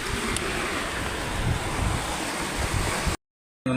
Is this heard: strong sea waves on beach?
yes